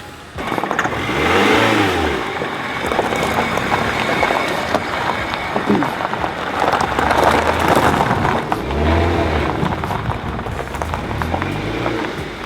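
A Mazda MX-5 NC engine hums and revs gently as the car creeps forward onto a ramp, a steady loud drone with periodic swells, alone without talk.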